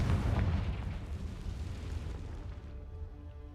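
A fiery Confringo spell bursts in Hogwarts Legacy, a deep rumbling explosion that starts loud and rolls off into a long fading boom with no voices over it.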